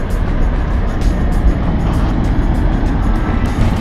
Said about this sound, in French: il y a déjà une belle voiture qui passe